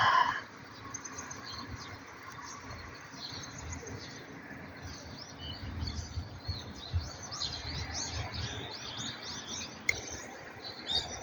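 Morning birds chirp and tweet in a green park under a cloudy sky, scattered calls at moderate distance over a soft outdoor hum, with no talking.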